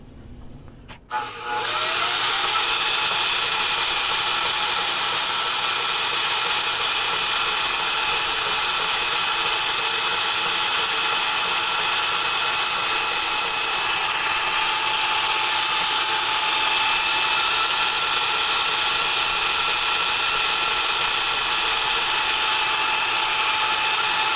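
A bandsaw runs continuously while cutting, with a loud, steady high-pitched whine and hum for the whole stretch, no voices.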